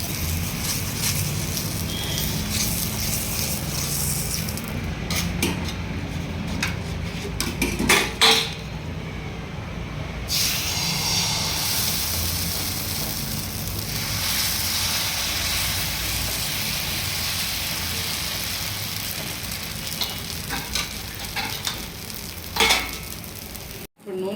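Dosa batter sizzles steadily on an oiled dosa pan, a continuous frying hiss with occasional scraping and utensil clinks, close and moderately loud with no talking.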